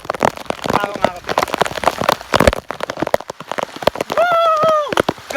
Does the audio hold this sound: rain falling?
yes